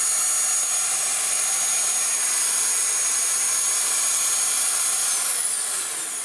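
A Dyson DC19 bagless cylinder vacuum cleaner runs continuously, giving a loud, high-pitched motor whine and rushing airflow hiss that hold steady before easing off slightly near the end; no one speaks.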